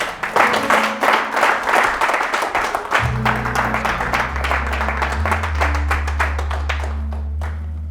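A church congregation claps in a quick, rhythmic burst, the applause fairly close and loud, while a sustained keyboard chord enters partway through and continues beneath the fading claps.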